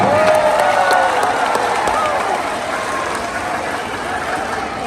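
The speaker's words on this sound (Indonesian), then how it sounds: "Tepuk tangan untuk beliau." An audience applauds at a political campaign rally in Banten, giving a dense, continuous wash of clapping with light cheering that is loudest at the start and tapers slightly toward the end.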